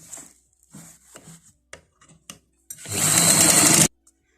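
Sewing machine stitching a trouser hem, a dense, loud burst of rapid mechanical chatter lasting about a second, preceded by scattered quiet clicks and handling taps.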